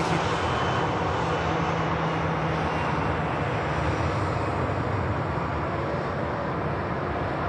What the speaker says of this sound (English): There's the Junyao at the back of Shop just begins the takeoff roll.